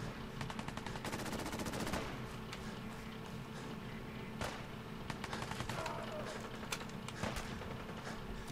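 Gunfire in Fallout 4 rattles in rapid bursts from behind, sharp cracks and automatic volleys repeating across the scene, fairly loud over a steady background din.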